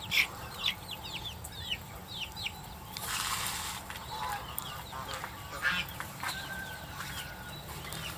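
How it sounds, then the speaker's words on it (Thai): A flock of young Wernsang and Betong chickens, about one and a half months old, clucks and peeps close by, with repeated chirpy calls and a brief rustling burst in the middle. "ไก่เวิร์นส้างและไก่เบตงนะครับ"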